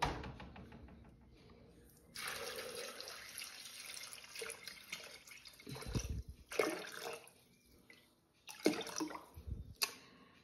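Water pours into a Thermomix bowl holding small pieces of potato, a steady splashing stream with several louder gushes and splashes toward the end, close and alone.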